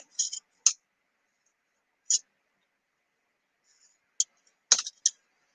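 Paper being cut with a craft blade along a ruler line, on a faux cabinet card display project. A few short, crisp scraping strokes come close up in a quiet room, separated by pauses.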